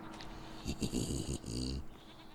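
Goats bleat in Farming Simulator 25, a couple of drawn-out, wavering calls in close succession, fairly quiet and standing alone without talk.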